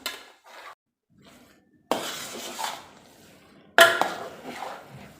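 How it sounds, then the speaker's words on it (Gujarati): Semolina and milk for a large batch of mahaprasad being stirred in a pot, with scraping metal clanks and rattles that come in uneven bursts separated by short pauses, close and fairly loud, with no talking. "આ રીતે બધા સોજીને મિક્સ કરી દેવાનું"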